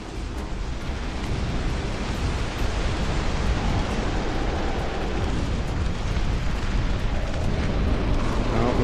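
Bombers drop their loads in the video game Dustfront RTS, producing a dense, continuous roar of explosions and rumbling blasts that stays loud throughout.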